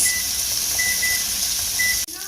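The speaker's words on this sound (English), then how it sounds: "my timer's gone off" A kitchen timer beeps in short intermittent high tones over a steady background hiss, fairly faint, cut off abruptly near the end by a click and a change in room noise.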